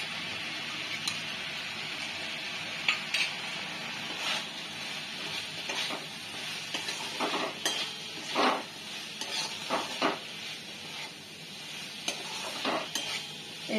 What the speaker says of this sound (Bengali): এটা এক মিনিট নেড়ে নিলাম